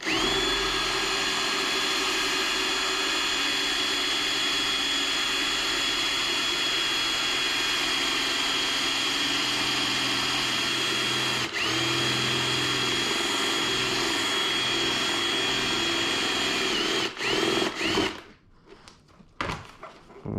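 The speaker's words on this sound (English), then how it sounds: "Once you got that one drilled off" A power drill runs steadily for about seventeen seconds while drilling out a door panel fastener on a Lexus IS250/350, then stops and gives way to a few short handling knocks and clicks.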